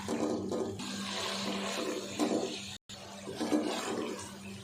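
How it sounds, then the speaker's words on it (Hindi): Chicken in yogurt masala roasting in a pot, giving a steady sizzling, hissing rush that carries on throughout with a brief gap partway through. "अब एक दफ़ा इसकी भुनाई कर लेते हैं।"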